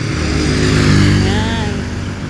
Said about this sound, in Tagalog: Ayan na po yung dalawang motorsiklo kanina.